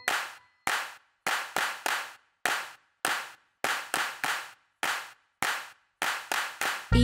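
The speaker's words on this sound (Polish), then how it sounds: "A na koniec tylko klaszcz." Hands clap in time with a children's song about a farmer's dog, crisp sharp claps in the song's rhythm, some single and some in quick pairs, close and clear with silence between.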